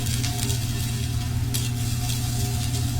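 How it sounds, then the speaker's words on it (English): Steady, dense sizzling of onions frying in a hot pan, a continuous crackling hiss with faint stirring, no voices. "Hear that nice sizzle going."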